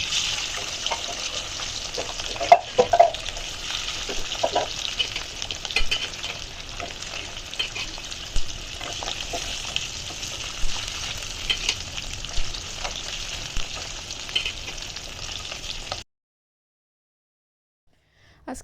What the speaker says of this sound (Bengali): তো এখানে আমি মশলাটা কষাই নিছি।